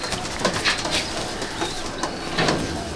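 Pakistani slate kamangar pigeons in a home loft give soft, repeated coos at short intervals, close by, with no talking.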